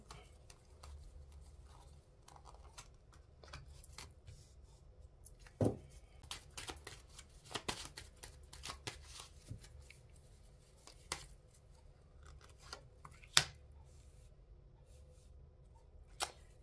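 Tarot cards are shuffled and drawn, giving soft papery flicks and riffles with a few sharper snaps scattered over a quiet background, close and fairly faint.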